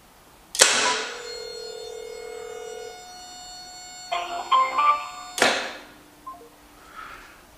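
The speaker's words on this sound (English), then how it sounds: "With one phone call, this will trigger the push-pull solenoid, will pull down, release here like it did" A push-pull solenoid on a DIY cellular hog trap fires from a phone call, giving a sharp mechanical clack, a burst of rattling, then a second loud snap, with a sustained electronic ringing tone lingering through the clip.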